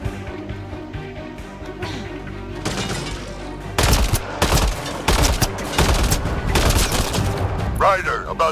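Rapid bursts of gunfire from the sci-fi shooter Mass Effect Andromeda, sparse at first, then dense and loud, with repeated sharp shots layered over battle noise and game voices speaking.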